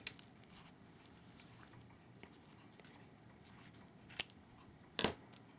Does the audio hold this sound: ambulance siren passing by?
no